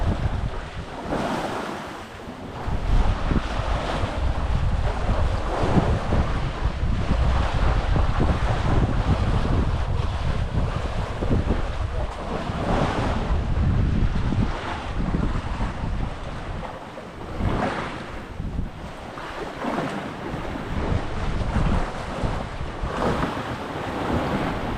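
Ocean waves and strong wind buffet a yacht at sea, a loud continuous roar of surf and gusting wind across the microphone, surging and easing in long swells, with no voices.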